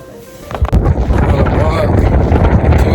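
Strong wind blowing outdoors on a mild day, buffeting the microphone with a loud, steady roar that builds within the first second and then holds, with a voice beneath it.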